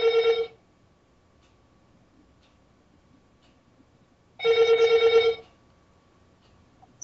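A telephone rings twice, each burst a bright trilling bell lasting about a second, with a long silent gap between the rings.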